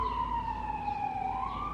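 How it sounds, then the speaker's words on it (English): An emergency vehicle siren wails outside in Brooklyn, a steady gliding tone that dips and rises again, heard indoors at moderate distance over a low rumble, no talking. "There's a siren."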